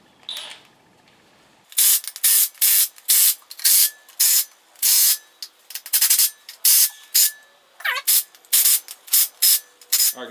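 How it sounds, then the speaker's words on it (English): A ratchet wrench tightening the timing cover bolts on an LS engine for a Foxbody build: a close, loud, rapid series of clicking ratchet bursts in short rhythmic strokes after a quiet start. "I'm going to go ahead and tighten these timing cover bolts down"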